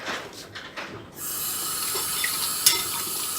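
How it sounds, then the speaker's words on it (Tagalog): Tap water runs steadily into a household sink while plates are rinsed, starting after a brief moment of softer splashing and then flowing continuously at close range with small clinks. "Kailangan banlawan mo muna lahat."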